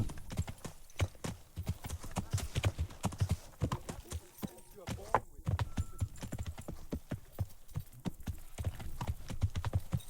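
Horse hooves clip-clop steadily at a brisk pace in the video game Kingdom Come: Deliverance, fairly quiet, with a voice speaking over part of the hoofbeats.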